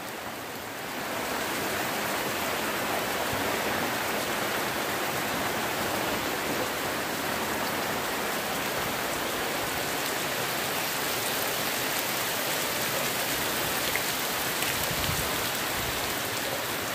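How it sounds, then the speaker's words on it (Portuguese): Steady, dense rain drums on a thatched straw house, a continuous close hiss that holds evenly from start to finish with no voices. "Olha só a chuva, pessoal, caindo na casa de palha."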